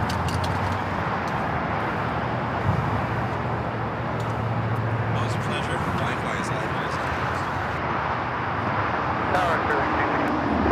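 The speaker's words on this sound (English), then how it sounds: "This is Air China 988 taking off to Beijing on the 777-300ER" An Air China Boeing 777-300ER heavy takes off at LAX bound for Beijing, its broad jet roar steady and loud throughout, with voices talking over it.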